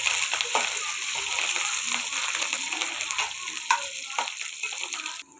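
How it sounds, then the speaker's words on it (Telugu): Dried red chillies and curry leaves sizzle and crackle in hot oil in a pan, a steady bright frying hiss with occasional stirring scrapes, fading out at the end. "ఎండుమిరపకాయలు, కరివేపాకు ఇవన్నీ వేసుకొని ఫ్రై చేసుకోవాలి."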